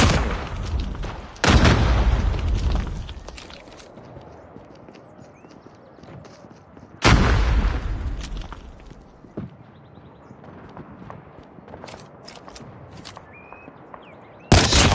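Gunfire in the mobile shooter Call of Duty Mobile, loud sharp bursts at the start and in the middle, with scattered lighter shots and game effects between them.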